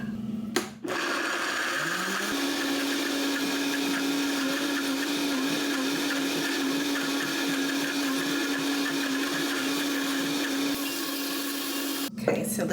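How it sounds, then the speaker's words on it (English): A Vitamix blender blends fresh basil and Parmesan into pesto in a home kitchen, a loud continuous whirring roar that starts with a click, climbs in pitch as the motor spins up, holds steady for about ten seconds, then cuts off. "Hope this Vitamix does me justice, and that yummy Parmesan cheese."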